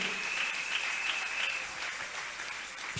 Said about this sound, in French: Est-ce que nous pouvons encourager l'évêque par nos acclamations,